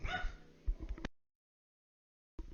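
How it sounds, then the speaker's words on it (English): A house dog barks at a motorcycle passing outside, a few quick muffled yips and barks close by, cut off abruptly by silence before resuming briefly. "motorcycle outside my house, and so my dog has to bark at it"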